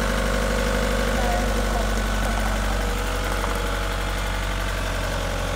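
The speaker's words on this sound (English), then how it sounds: "it's driving the mower" The engine of a riding mower runs loudly and close, with a steady low throbbing drone and a mechanical rattle, while voices talk over it.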